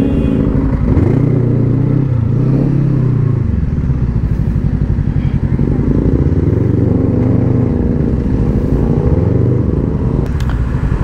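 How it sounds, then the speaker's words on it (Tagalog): An MT450 motorcycle engine runs loud and close, with a throbbing idle and several rising and falling revs, a rough mechanical rumble sustained throughout. "Ang gandang motor din."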